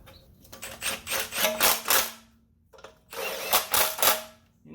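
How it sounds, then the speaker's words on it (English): An electric impact driver runs on bolts during a Honda Civic automatic transmission install, two close bursts of rapid rattling hammering with a short pause between them. "You notice I'm not over tightening those with my electric impact."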